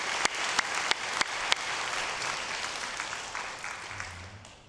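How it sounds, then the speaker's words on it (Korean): Congregation applauding at a church evening worship service, a dense wash of clapping with a few sharp louder claps near the start, fading somewhat toward the end. "박수로 다시 한번 격려하겠습니다"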